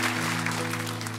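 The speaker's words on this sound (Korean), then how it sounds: "우리 한 번 더 큰 박수로 축복해 드리기 원합니다" A Korean church congregation breaks into a brief, full burst of applause at a Sunday service, the clapping laid over a steady, sustained tonal hum.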